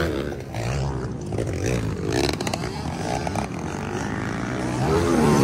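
Underbone motorcycles roar through a motocross final heat at a Quezon track, several engines blending into a loud, continuous revving drone with shifting pitch as bikes pass and accelerate.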